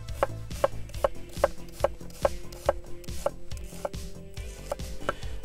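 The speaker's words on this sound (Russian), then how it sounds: "Теперь берем лук и нарезаем полукольцами по стандарту." Knife slicing onion into half rings on a cutting board for a Soviet-style pork shashlik, about a dozen crisp, evenly spaced chopping knocks in a steady rhythm, close and clear with no talk.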